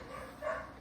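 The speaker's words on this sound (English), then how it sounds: "pardon my dog barking in the background" A dog barks once or twice in the background, faint and somewhat distant, a short muffled bark rising briefly above the room tone.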